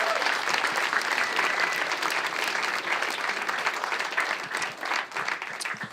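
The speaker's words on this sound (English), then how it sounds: "give him a big round of applause for that" An audience claps loudly at a live election Q&A event, dense continuous applause from a crowd that stays strong for several seconds before thinning slightly with a few scattered claps at the end.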